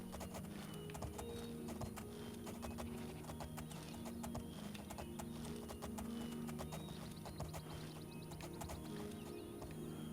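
Horse hooves clip-clop in a steady, rapid rhythm over a constant droning background, with no talking, in the video game Elder Scrolls IV: Oblivion.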